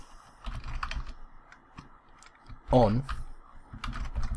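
Keys clatter on a computer keyboard as code is typed for a Unity 2D player-movement script, short bursts of clicks running under a man's speech and pausing while he talks.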